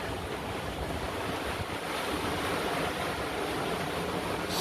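Sailing through 20-knot winds: a steady broadband rush of wind and breaking waves, wind buffeting the microphone, continuous and fairly close with no voices.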